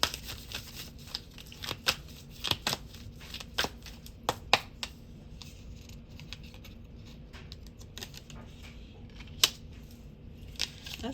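Tarot cards being shuffled by hand, a soft continuous riffle and rustle of card stock punctuated by sharper snaps and taps at irregular intervals, close and fairly quiet with no talking.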